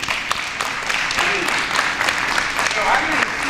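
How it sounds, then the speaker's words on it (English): A crowd at an African naming ceremony applauds, steady clapping from many hands mixed with cheering voices and chatter, fairly loud and close throughout. "We have a round of applause for Brother Sadiki."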